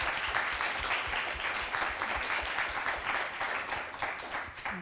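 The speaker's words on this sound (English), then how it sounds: "let's give a last round of applause to our video makers and our panelists" Sustained audience applause for video makers and panelists at a short film showcase on aging, a dense even wash of clapping throughout at moderate level.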